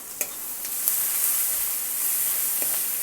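Onions fry in a hot pan while being stirred, giving a steady bright sizzle broken by a few light scraping clicks of the spoon.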